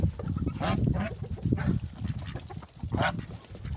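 Geese honking repeatedly nearby in a Ukrainian village on a frosty morning, loud nasal calls overlapping in a noisy, continuous chorus.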